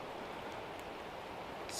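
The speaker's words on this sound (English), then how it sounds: "while it rains." Rain falling steadily outside a makeshift survival shelter, an even, faint hiss of drops with no breaks or other sounds.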